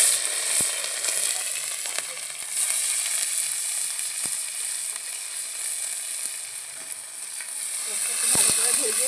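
Chopped onions fry in a little oil with a whole dried red chilli and cumin, making a continuous bright, close sizzle with occasional soft stirring taps, steady throughout with no talking.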